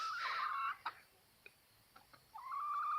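Backyard chickens, white roosters among the flock, clucking and calling near the microphone in short bursts with quiet gaps between, a drawn-out call at the start and another rising at the end, no talk.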